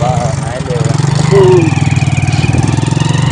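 A borrowed motorcycle rides to the market with a steady, close, low engine drone and rapid pulsing beats. A voice talks over the engine.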